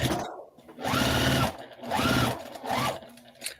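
Sewing machine stitching quilt squares in three steady whirring runs separated by short pauses, close and fairly loud, with a faint voice at the start.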